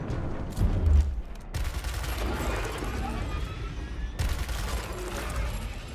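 Gunfire from the tactics video game Gears Tactics comes as a short burst of heavy shots, followed by ongoing mechanical game noise and ambience, with faint talk in the background.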